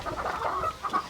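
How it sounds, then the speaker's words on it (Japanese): A large white guinea fowl gives short, clucking, chattering calls close by, a quick burst of several notes. "こちらにいるこの謎の白いでっかい鳥はホロホロ鳥です"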